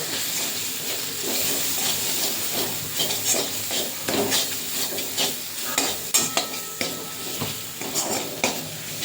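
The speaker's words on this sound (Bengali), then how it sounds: "মশলাটা ভালো করে কষিয়ে নেব" Masala of coriander and cumin powder stir-fried in a pan, with a steady sizzle under repeated scraping strokes of a spatula against the metal, close and fairly loud, and a few sharper clinks near the end.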